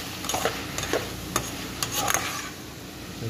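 Adobo sautéing in a pan gives a soft, continuous sizzle, broken by a few light clicks and scrapes from stirring, all fairly quiet and close.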